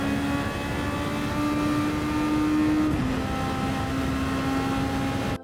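A Super Formula race car in Gran Turismo 7 howls at full throttle around Suzuka, holding a high, steady engine note. The pitch dips briefly at a short lift midway, then climbs again before cutting off abruptly.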